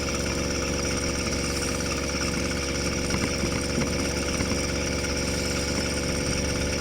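Small motorized bicycle engine holding steady at about 4,200 RPM on a winter cross-country ride, a continuous buzzing drone with even vibration throughout, close and unbroken, with no talking.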